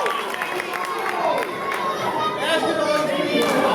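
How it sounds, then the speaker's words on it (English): Wrestling crowd at a CSW Legacy show cheering and chattering as a wrestler appeals to them, a dense, fairly loud wash of voices with rising shouts, with people talking over it. "And Austin Lee makes his appeal to the crowd to much fanfare."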